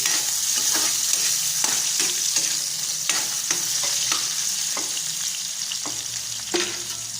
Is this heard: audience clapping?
no